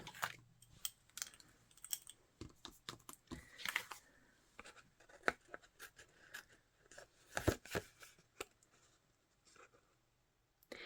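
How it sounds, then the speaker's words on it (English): Scissors snipping through cardstock at a paper-crafting table, giving a quick run of sharp, close clicks and cuts spaced irregularly over quiet background. "and we're going to snip"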